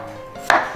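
A knife slices freshly caught fish thinly in one sharp, close cut after a quiet moment, with no voices.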